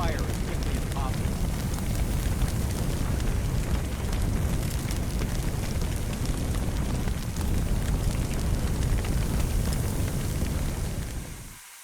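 A fire hose in Firefighting Simulator sprays water onto a fire, making a steady, loud, dense hiss and rush. It holds for several seconds and then cuts off abruptly at the end.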